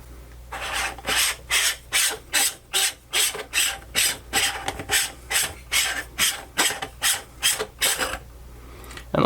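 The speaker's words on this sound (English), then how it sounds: "I'll try to remove this lens and try to find the sweet spot here." A camera lens twisted off a Kenko copy adapter, a close, dry rasping ratchet of threads repeated in about fifteen short, even strokes, with no talking.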